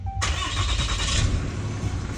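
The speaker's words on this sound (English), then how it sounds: "then I'm gonna fire it up." A diesel truck engine cranks and fires up, settling into a steady, loud close-up idle rumble that runs throughout with no talking.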